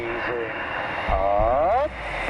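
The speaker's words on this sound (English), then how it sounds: "Will's jet drifts dangerously close to Purty." A Red Arrows display jet rolls overhead during a barrel roll, its engine rising into a loud, sweeping whine that bends downward as it passes, with a voice briefly audible over the roar.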